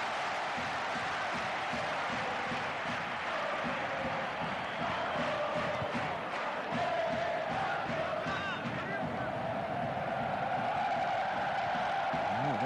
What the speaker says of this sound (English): Mexican wave around the stadium here.